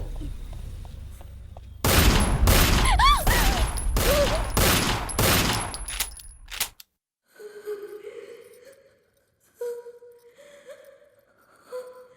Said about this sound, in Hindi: गोली से उड़ा दे साले को